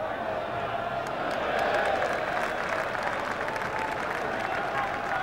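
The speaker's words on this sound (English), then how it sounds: "Applause for 21-year-old Andy Thorne." Football crowd at a 1988 FA Cup quarter-final between Wimbledon and Watford applauding a young player, a broad steady wash of clapping and crowd noise from a distant stadium under a commentator's voice.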